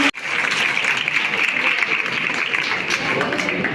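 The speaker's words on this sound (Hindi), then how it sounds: "सभी बच्चे एक बार जोरदार तालियों के साथ," Schoolchildren at a summer camp inauguration clap loudly together in a steady, dense round of applause after a brief thump at the start.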